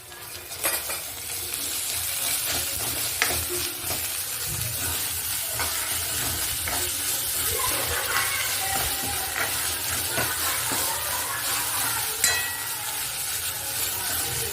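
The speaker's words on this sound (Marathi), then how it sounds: "गोडा मसाला पण चांगला परतून घेणार आहे त्या तेलामध्ये" Two spoonfuls of goda masala sizzle and fry in hot oil in a pan for egg curry, with a steady close hiss broken by scattered scraping and stirring clicks.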